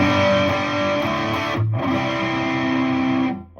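An overdriven electric guitar, a Fender Telecaster on the bridge pickup through a JHS Violet overdrive pedal and a Boss Katana amp, rings out loud sustained distorted chords with a brief break before fading at the end.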